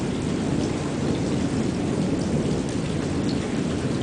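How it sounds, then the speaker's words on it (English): Rolling thunder rumbles continuously beneath steady heavy rain during a Phoenix thunderstorm, a dense, even wash of low booms and falling water with no voices. "just constant rolling thunder"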